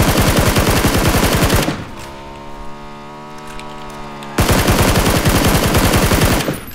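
Video game gunfire in PUBG on the Miramar map: loud, rapid automatic bursts up close, broken by a few seconds of engine hum before another sustained volley of shots.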